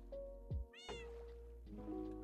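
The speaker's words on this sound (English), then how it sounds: "Just me and my kitten on a boat." A Minecraft kitten lets out a clear, close meow over steady background music in a pink cherry grove survival world, the single call rising and falling once.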